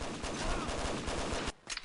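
Rapid automatic gunfire from a Combat Arms weapon, a dense continuous burst of shots that fills most of the moment at close range and then cuts off abruptly into a brief quieter tail.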